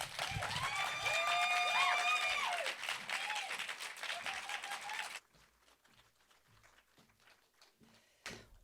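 Audience applause rises at an event as a sung, sustained tone rings out over it and fades. The clapping then thins to scattered, quieter claps before a brief final burst.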